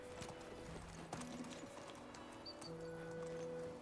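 Horse hooves clip-clop at a steady walking rhythm in the medieval survival game Medieval Dynasty, quiet and close, with soft background music playing underneath.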